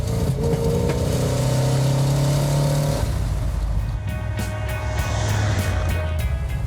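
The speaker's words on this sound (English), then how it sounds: "See how it pulls here. This is a 3rd gear pull." A Mopar car with a 440 Six Pack V8 pulls hard in third gear, its loud engine drone climbing steadily in pitch, then dropping after about three seconds as revs settle into a steady rumble under road noise.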